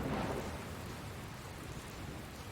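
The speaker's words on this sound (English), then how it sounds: "Huh? Where'd this rain come from?" Rain and thunder in the video game Dragon Quest Builders 2: a dense wash of steady rainfall with a low rumble of thunder swelling at the start, continuous and without voices.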